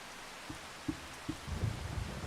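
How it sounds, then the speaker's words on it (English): Rain falls steadily in the Farming Simulator 25 video game, a soft, fairly quiet patter with a few dull thumps and a slightly heavier burst toward the end, no talking. "Now we just got rain."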